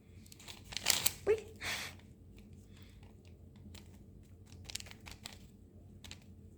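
A paper cover being peeled off a mini notebook from a paper surprise pack, a brief close crinkling and tearing burst followed by faint rustles and light handling noises.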